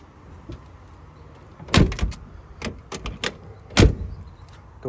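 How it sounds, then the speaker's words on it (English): Doors of a 1955 Chevy Bel-Air slamming shut, several sharp, loud thuds with metallic rattles, two standing out as heavy closes amid smaller clicks and knocks, close by with no talk. "Door shut real good."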